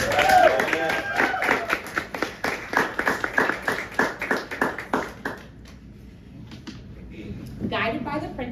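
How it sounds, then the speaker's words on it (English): Audience applause for a group of artists at a fellowship final presentation event, steady clapping for about five seconds that fades out, followed by a quieter pause and a brief swell of further noise. "Please, let's give them a round of applause to celebrate these dynamic artists."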